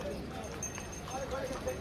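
Horses clip-clop along the Amarnath Yatra pilgrimage trail toward Pissu Top, with soft, irregular hoof knocks mixed into crowd murmur and nearby talking.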